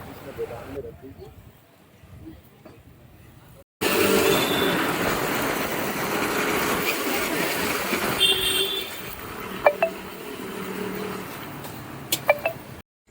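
Train at a railway station, with a loud rumbling pass of railcars after a quieter start, brief horn toots and sharp metallic clanks near the end, and people talking faintly underneath.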